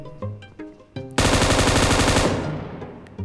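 A few scattered shots in PUBG Mobile give way to a long, loud automatic burst of gunfire at close range, fading into a ringing tail.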